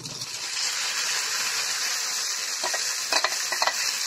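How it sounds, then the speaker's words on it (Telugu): Tomato puree being stirred into fried onions in a hot pan, cooking for tomato upma: a steady close sizzle and hiss with scraping stir strokes that grow busier near the end, with no talking. "మొత్తం ప్యూరీని వేసుకొని కలుపుకోవాలి. ఒక 2 నిమిషాల వరకు కలుపుకోవాలండి."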